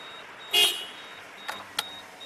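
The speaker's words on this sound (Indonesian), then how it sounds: "Untuk klakson bunyinya kayak gini" One short horn honk from a 2019 Daihatsu Xenia 1.3, loud and close, followed by a couple of faint clicks in a quiet setting.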